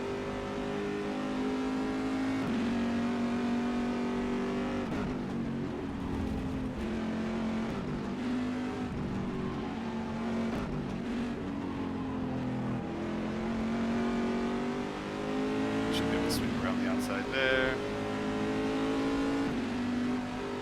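GTE and LMP2 race cars at Silverstone in the racing game rFactor 2, engines loud and continuous, revving up and down through gear changes as cars pass close by, with no talk.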